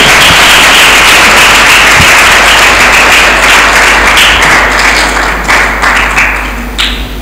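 Women gathered at a church in a Lahore village for a Women's Day program are met with loud, sustained applause from a close crowd, thick steady clapping that fades slightly toward the end.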